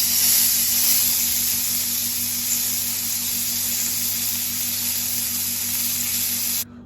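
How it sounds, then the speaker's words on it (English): An oiled, seasoned steak sizzling on a smoking hot griddle pan, a loud, steady hiss that runs unbroken for several seconds and then cuts off abruptly at the end, with no voices. "then you put your steak down, oiled and seasoned side, and that will sizzle like a thing possessed"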